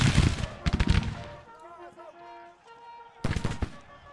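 Musket volleys between Civil War troops in Grand Tactician, bursts of loud crackling gunfire at the start and again near the end, separated by a quieter stretch with tonal music-like sound.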